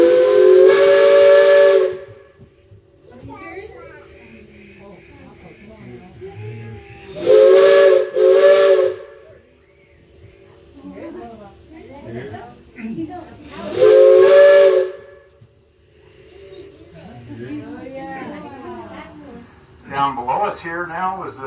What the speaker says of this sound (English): We'll blow the whistle and see if we can listen to an echo.